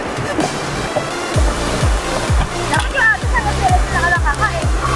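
A swollen river rushes past a campsite, a continuous wash of flowing water with rhythmic low thumps, heard under people talking.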